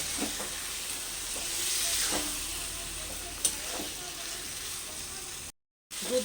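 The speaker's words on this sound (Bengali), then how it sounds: "ভালো করে একটু আবার নাড়াচাড়া করে নেব" Vegetarian bottle gourd curry with milk being stirred in a hot pan, a continuous hissing sizzle with occasional scraping knocks of the spoon, close and steady, ending in a brief dropout.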